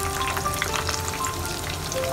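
Chinese-style chicken popcorn fries in hot oil with a dense, close sizzle and frequent crackling pops, steady throughout the short stretch.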